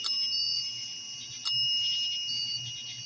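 A small bell rings twice during a ghost hunt, a bright sharp ding at the start and another near the middle, each with a sustained ringing tone over a quiet background hum.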